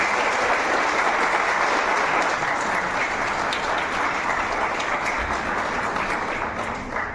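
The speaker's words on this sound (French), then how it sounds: "je pense qu'on peut les applaudir" A festival audience at the Meknes international animation film festival claps in a sustained, even wave of applause, dense and loud from start to finish without any voices.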